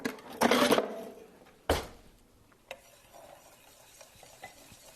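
Kitchen utensils clatter and scrape as someone rummages for a whisk while making pumpkin soup: two loud rattling bursts close by, then a sharper clink and faint rustling.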